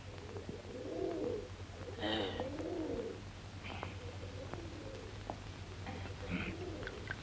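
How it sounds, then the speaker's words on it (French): A pigeon coos softly in short throaty bursts over a steady low hum and background noise, in a 1954 French film. "Non, non, c'est un pigeon spartiate."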